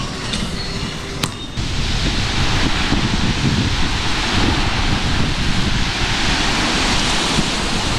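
Strong wind roars into the microphone over crashing sea waves on the shore of Isla Mujeres, Mexico, loud and continuous after a brief quieter opening.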